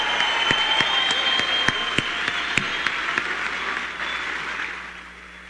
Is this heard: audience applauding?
yes